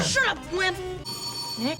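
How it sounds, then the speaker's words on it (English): A telephone rings in a few short bursts between shouted lines of dialogue from a film, sharp and fairly close, partly overlapped by voices. "That's a phone."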